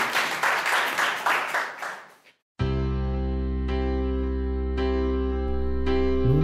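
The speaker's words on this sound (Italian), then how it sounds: "Facciamo un applauso a Marzia e per partire la fase" Audience applause at a live music show swells briefly, fades out and stops abruptly, followed by a sustained tonal music intro.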